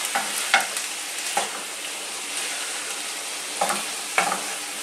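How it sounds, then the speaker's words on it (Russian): Meat sizzling in a frying pan with mixed vegetables such as corn and broccoli nearby, a continuous close hiss broken by occasional clinks and stirring scrapes. "Мяско жарится."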